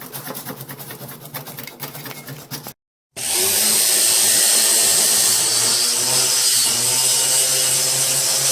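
A plastic P-trap pipe is cut with a power grinder, first a buzzing rattle, then a brief silence, then a loud, steady high-pitched whine close by that continues to the end.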